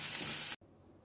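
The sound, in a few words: eggplant frying in hot oil with turmeric and salt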